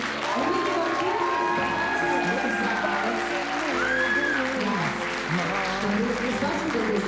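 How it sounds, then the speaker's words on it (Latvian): An outdoor commemorative gathering in Grenstāle applauds its dancers, continuous crowd clapping mixed with cheers and overlapping voices calling out throughout. "Viņiem šī brīdī vēlreiz vētrēni aplausi"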